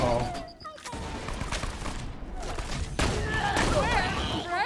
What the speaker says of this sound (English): Y'all throwing grenades